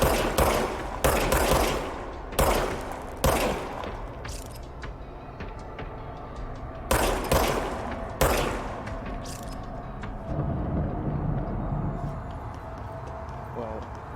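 Gunfire in the video game Control: bursts of loud sharp shots, several rapid clusters separated by short gaps, with denser firing near the middle and a continuing ambient hum afterward.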